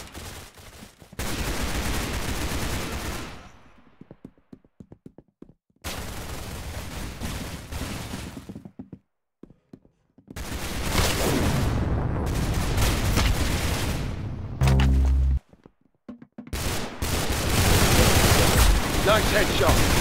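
Dense bursts of rapid gunfire in a Roblox Arsenal match, loud and continuous for several seconds at a time, broken by brief silent gaps, with a voice faintly mixed in.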